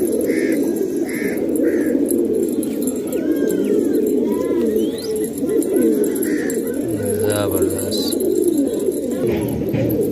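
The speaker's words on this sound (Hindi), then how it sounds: "सिंघारे दो कबूतर घूम रहे हैं" Fancy pigeons, Singhara males among them, coo softly in a home loft; the low, rolling coos run steadily close by, with a few sharper bird chirps and background voices mixed in.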